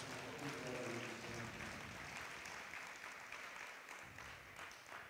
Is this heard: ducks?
no